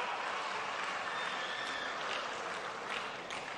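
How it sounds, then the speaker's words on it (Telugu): A rally audience applauds in a dense, steady wash of clapping that holds at an even level throughout, fairly loud and unbroken by speech. "గట్టిగా చప్పట్లు కూడా చెప్పండి"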